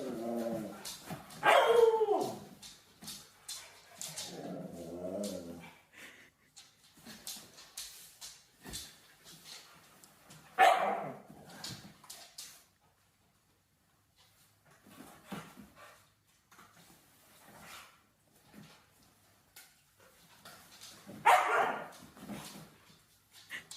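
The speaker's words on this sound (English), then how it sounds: "She's a 4-year-old Siberian Husky." A four-year-old female Siberian Husky barks and howls in three loud, separate bursts spread several seconds apart, with softer whines and yips between them, close to the microphone in a quiet room.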